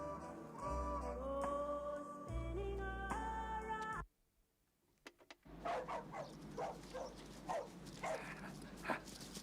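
Dogs bark in a rapid series of sharp yaps after music cuts off abruptly and a brief hush follows, the barking fairly close and repeated over several seconds.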